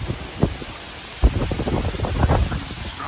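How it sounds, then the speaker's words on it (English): Strong wind from Hurricane Beryl in Houston rushes and buffets the microphone in uneven gusts, with rustling and a low rumble and no talk. "Strong wind."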